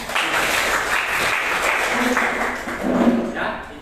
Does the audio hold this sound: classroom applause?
yes